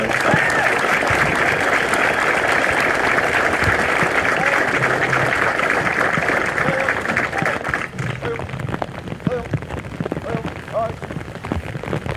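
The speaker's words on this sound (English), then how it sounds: "Ladies and gentlemen, let's give our awardees a big round of applause" Sustained, dense applause from a large crowd at a military basic camp graduation ceremony for awardees, steady and loud for several seconds before thinning into scattered claps, with some voices audible as it fades.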